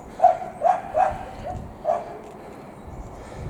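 A neighbouring dog barks outdoors, four or five short yapping barks spaced irregularly, moderately distant over faint background noise.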